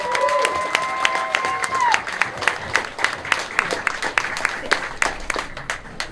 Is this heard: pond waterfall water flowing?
no